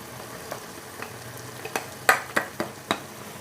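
Chopped green chillies sizzle in a pan with liver, a soft, continuous frying hiss broken by a series of sharp stirring scrapes and clacks that grow louder near the middle, with no voices.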